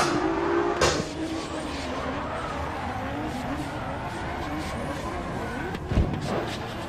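A drift car at the French Drift Championship launching its battle run: a continuous engine roar with tire squeal, a sharp burst near the start and another near the end, and faint commentary underneath.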